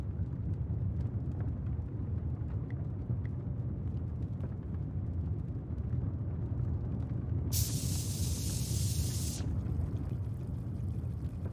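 Cola fizzing from dropped mints in Broken Sword 5: The Serpent's Curse, a sudden bright hissing spray bursting over a low rumbling background, lasting about two seconds before cutting off.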